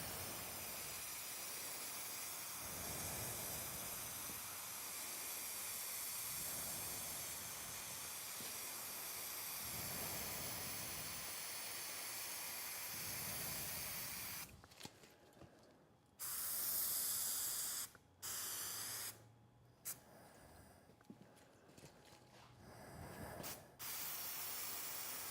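A spray can hissing in long, steady bursts while coating a surface during a van build, continuous at first and then breaking into short choppy sprays with gaps of quiet.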